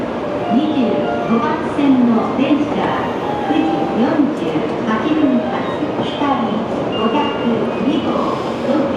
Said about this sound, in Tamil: நம்ம ட்ரெயின் வந்து விட்டது